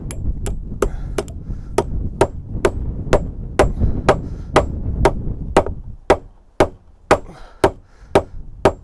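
Steady hammer blows drive a nail into timber on a tiny house build, about two strikes per second, sharp and close, roughly eighteen in all with no talking.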